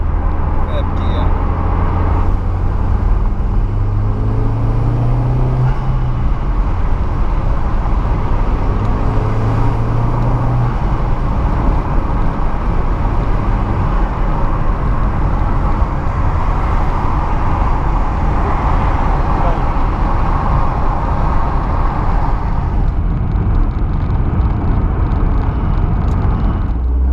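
A 300bhp MK4 Golf GTI 1.8T drives in third gear, its engine and road noise a loud, steady rumble with slow rises in pitch as it pulls, while people talk inside the car.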